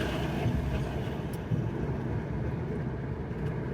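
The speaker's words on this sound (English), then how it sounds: "this lorry is very loud" A loud lorry rumbles past, with a dense low engine and road roar filling the scene at steady volume throughout.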